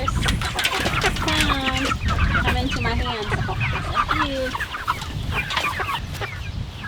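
Cornish Cross meat chickens cluck and murmur nearby in a steady, busy chorus of short calls, while a person speaks briefly over the flock.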